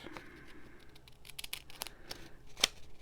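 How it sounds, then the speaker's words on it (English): Scissors snip along the edge of washi tape on a journal page, giving a few crisp, close cuts spread over several seconds, with the sharpest and loudest snip near the end and quiet paper rustling between the cuts. "once I trim off the edge of the washi"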